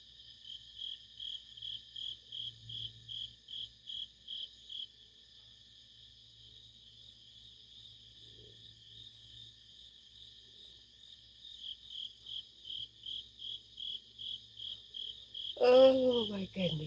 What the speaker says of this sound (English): Lots and lots of crickets.